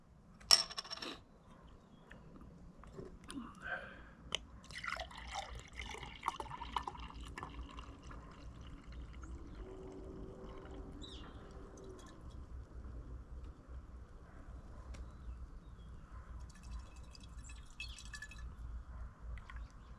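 A screw-top bottle of Ciderboys First Press traditional hard cider is opened with a sharp crack, followed by clinks and a steady liquid pour and fizz that runs for many seconds, fairly close and with no talking.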